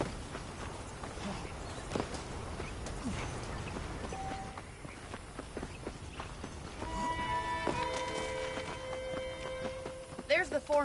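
Rhythmic clip-clop of horse hooves at a steady walk, moderately close, with other game sounds and a brief bell-like tone near the end.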